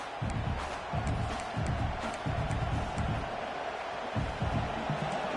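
A football stadium crowd at a college game roars steadily, loud and continuous, with rhythmic surges that suggest chanting and stomping.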